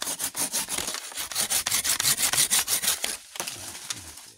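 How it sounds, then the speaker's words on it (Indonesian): Hand saw cutting dry tree branches during pruning, with steady rapid back-and-forth strokes of rasping wood, loud and close, a brief pause near the end before a few more strokes. "Ini saya lakukan dengan gergaji karena gunting saya tadi pagi patah"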